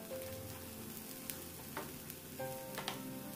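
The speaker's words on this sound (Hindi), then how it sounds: "और इसमें हमने जो चॉप किए हुए प्याज और कैप्सिकम थी वो भी डाल दी है, इसे भी हम अच्छे से भून लेंगे।" Grated ginger, chopped onion and capsicum fry in a pan with a steady, close sizzle, broken by a few light stirring scrapes; nobody speaks.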